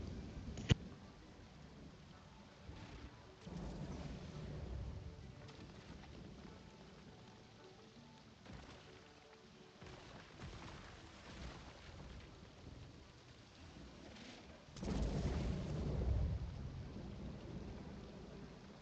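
Thunderstorm in LEGO Fortnite Odyssey: steady rain hiss with low rolling thunder throughout, a sharp crack early on and a louder thunder swell near the end, with no talking.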